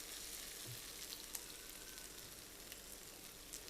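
Onion, ginger and garlic fry in a pan for fish rezala as spices go in, giving a steady, soft, continuous sizzle and crackle with no voices.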